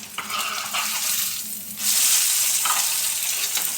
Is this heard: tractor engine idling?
no